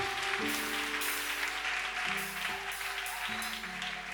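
Wedding congregation applauding as brother Ahmed Bounsana comes forward, soft massed clapping held under steady organ-like chords, moderately distant.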